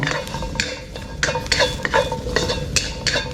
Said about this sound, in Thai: คั่วเครื่องเทศให้มีกลิ่นหอม